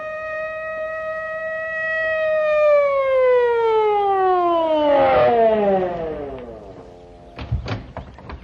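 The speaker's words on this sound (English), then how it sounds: "Here comes a police car." A police car siren wails loudly and close, its pitch sliding steadily downward as it passes, followed by a few dull knocks like a door closing.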